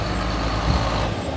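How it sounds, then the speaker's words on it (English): A bus passes close by on a street, giving a steady, loud, heavy engine rumble that holds through the whole moment with no voices. "after this bus gets out of the way"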